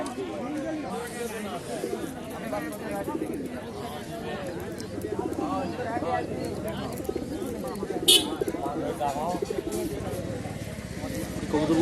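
Pigeons coo among a steady din of crowd chatter at a busy open-air pigeon market, with people talking close by throughout.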